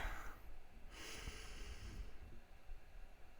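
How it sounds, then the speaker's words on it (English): A slow, deep breath drawn in and let out during a guided meditation, a broad airy rush that swells and fades alone with no talking. "take a deep breath"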